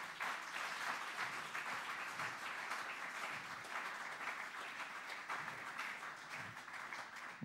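A church congregation claps together in steady, dense applause that holds at an even level throughout, close and sustained with no pauses and no voices over it.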